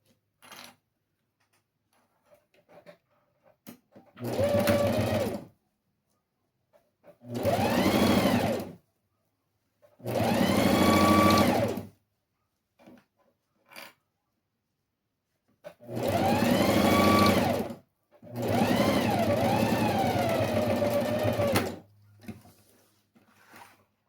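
A sewing machine stitches a fabric lining into a small cosmetic pouch in five separate runs of steady motor whir, each a few seconds long, with quiet pauses and faint handling clicks between.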